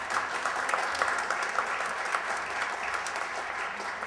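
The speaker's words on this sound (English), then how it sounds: "Let's give him a big round of applause." Sustained audience applause fills the whole stretch, a steady, dense wash of many hands clapping at even loudness with no speech over it.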